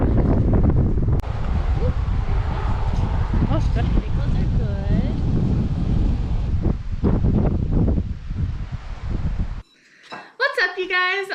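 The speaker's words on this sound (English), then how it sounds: "it's super windy up here" Strong wind gusts at McHugh Creek, Alaska, buffet the microphone in a loud, continuous low roar while someone talks over it, then the wind cuts off abruptly near the end and a brief burst of other voices follows.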